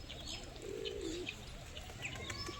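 Pigeons coo softly on a farm, a low rolling call near the middle, with faint chirps and a steady outdoor background hum.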